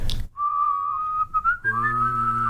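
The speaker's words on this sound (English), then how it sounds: "You do that bassy whistle thing." Low, bassy whistling held as a steady tone, then shifting to a richer, buzzier note, close and clear with no talking.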